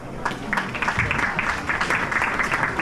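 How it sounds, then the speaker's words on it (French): A congregation at a memorial service for a reverend claps together, a dense patter of many hands that swells and holds steady through the moment, moderately loud and close. "We are clapping for the glory of God."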